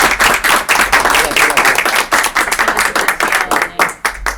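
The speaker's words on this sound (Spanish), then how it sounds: "démosle un aplauso a Lenin." A crowd applauds at a book launch for a leadership book, steady dense clapping from many hands throughout, fairly loud and close, with a little voice mixed in.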